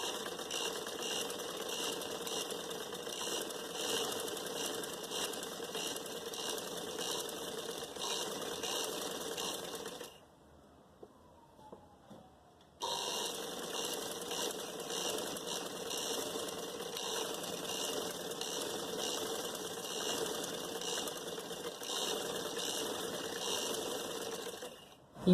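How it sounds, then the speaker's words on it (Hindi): Sewing machine running steadily as it stitches a gathering line on a puff sleeve, a fast continuous mechanical whir that cuts out for a couple of seconds midway and then resumes. "ये देखें, हमारी गेजिंग की सिलाई जो है वो पूरी हो रही है।"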